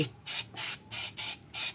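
Five short bursts of brake cleaner sprayed onto Nissan Navara brake pads, evenly spaced hissing blasts with brief pauses between, loud and near.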